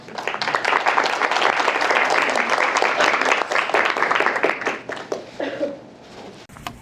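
Sustained applause from a lunch audience at a law firm's charity get-together, dense clapping for several seconds before thinning out toward the end.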